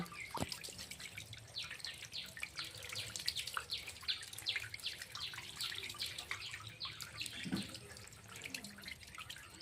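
Water pours into a fish tank in a steady splashing, gurgling stream, moderately close, with faint bird calls in the background and no voices.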